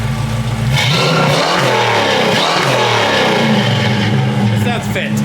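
A Pontiac engine fitted with a custom 2.5-inch header-back exhaust, X-pipe and Summit Racing single chamber racing mufflers revs up loudly and close, a rough, throaty roar sustained over several seconds with a voice partly under it.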